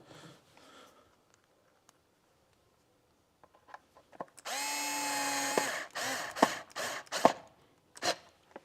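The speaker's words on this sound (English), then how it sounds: "These are just self-tappers going into plastic, so it's easy to do" A power driver sinks self-tapping screws into plastic while a mirror is installed, giving a steady whir of a few seconds followed by several short stop-start bursts, close by and fairly loud.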